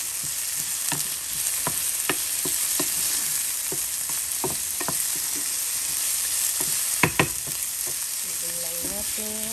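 Pork igado with tomatoes stir-fries in a pan, a steady loud sizzle running throughout, broken by repeated sharp scrapes and clacks of the spatula and a few quick taps near the end.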